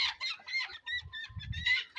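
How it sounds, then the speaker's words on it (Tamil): A white rooster and several chickens cluck and chatter close by on a small farm, busy overlapping calls with low scuffling underneath and no talk. "இங்கே வந்து ஒரு வெள்ளை கோழி சேவல் இருக்கு"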